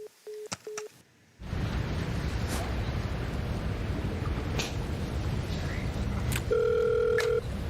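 A telephone rings during a comedy bit at a Dota 2 International broadcast: short electronic ring tones at the start, then a steady wash of noise, and another single tone near the end.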